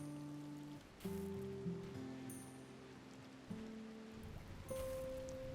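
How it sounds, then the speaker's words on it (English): Rain falls in the video game The Rim of Time, a steady broadband hiss of drops with soft tonal game sounds and faint chimes layered over it, moderately loud and continuous. "here comes the rain"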